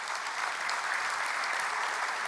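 A church congregation applauds during a sermon, a steady, dense clapping that fills the whole short stretch at an even level, with no voices over it.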